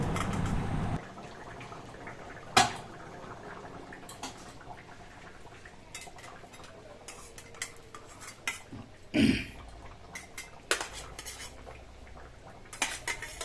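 Fresh medium-sized bata fish, fried, going into a metal cooking pot, with clanks and scrapes of pot and utensils at irregular intervals over a quiet background.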